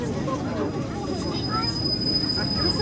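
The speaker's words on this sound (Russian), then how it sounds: "Сам большой трамвай, точнее." A large tram stands at a tram parade arrival in Moscow, a low rolling rumble with faint rail squeal and a thin steady electrical whine, under nearby chatter from onlookers.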